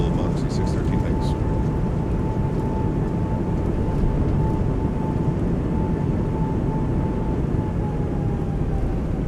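Simulated Airbus A220 on landing rollout with reverse thrust, a loud, continuous roar of engines and rushing noise from the cockpit, with a steady tone running underneath.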